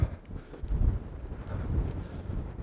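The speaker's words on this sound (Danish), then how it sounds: "Der blæser." Outdoor wind buffets the microphone in wild open country as rain begins, a low rumbling gusty roar that surges and eases unevenly throughout.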